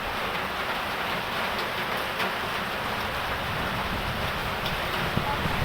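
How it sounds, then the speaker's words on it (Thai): Heavy rain pouring in Vientiane, Laos, a dense steady hiss of drops on surfaces mixed with some wind, continuous and moderately loud throughout. "ฝนตกยามแรง"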